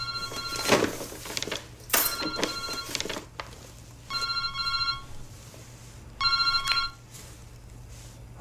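A cell phone rings indoors in three separate bursts of repeated electronic trilling, each lasting about a second, with quiet gaps and some faint background noise between them.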